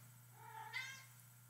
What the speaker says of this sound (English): a chatty cat just came in from outside